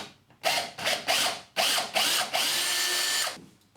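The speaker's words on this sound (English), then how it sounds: "we can drill the second fixing hole" A power drill bores a fixing hole in a plasterboard wall for a shelf bracket, several short loud whirring bursts followed by one longer sustained run, close up with no talk.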